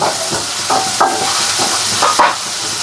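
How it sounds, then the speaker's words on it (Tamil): Oil heating in a tawa pan gives a loud, continuous close sizzle and hiss, broken by several short scraping stirs of a utensil across the pan. "நம்ம வந்து எண்ணெய்லாம் ஊற்றி காய வச்சு"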